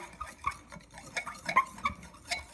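A knife stirs a homemade slime mixture of baking soda in a bowl, giving faint, uneven scraping clicks and soft wet taps close by, with no voices.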